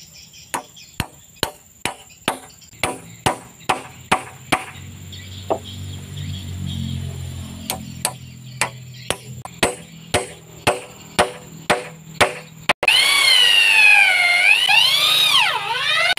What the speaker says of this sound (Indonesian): cara memakunya harus miring agar waktu dipaku kayu ini bisa lebih rapat.